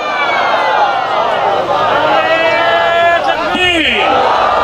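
A large crowd at a religious gathering chants slogans in unison, loud and sustained with layered voices throughout.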